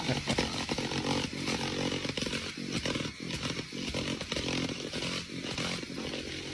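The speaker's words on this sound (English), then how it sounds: "which is a reciprocating saw, but a lot of people call it sawzall" A reciprocating saw (Sawzall) cuts with a loud, close, rhythmic buzzing rasp that pulses unevenly as the blade strokes through the material.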